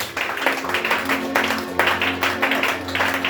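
A church congregation claps together during a French-language worship service, a brisk, steady burst of hand claps lasting a few seconds, with a low background hum.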